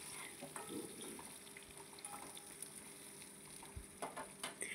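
Brinjal fries lightly in a pan, giving a faint, soft sizzle with a few small clinks and spatters, no talking.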